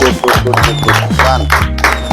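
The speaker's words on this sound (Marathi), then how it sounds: "टाळ्या वाजवायच्या गोड" Clapping from a gathered audience at a tabla inauguration, held at a residential project for farmers' daughters in Wagholi, Pune. The applause is steady and close for about two seconds, mixed with ringing low musical tones.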